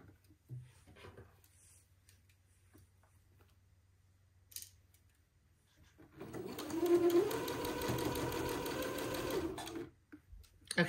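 A sewing machine stitches entredeau onto the sleeve openings of a white button-on suit. After a quiet stretch with small handling noises, it runs in one close, even burst of about four seconds, then stops.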